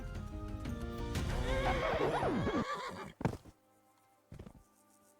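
A horse in the video game Kingdom Come Deliverance 2 gives a loud, close whinny with rising and falling pitch, followed by a few sharp hoof clops and short snorts against a quiet background.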